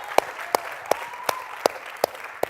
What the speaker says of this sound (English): let's give a hand to Starbucks United